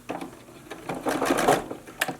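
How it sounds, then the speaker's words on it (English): A sewing machine stitches a seam on a face mask in short, uneven bursts of mechanical whirring and clatter, close and moderately loud, with brief stops between runs. "Make sure to tuck your elastic in a little bit so you don't sew it into the seam."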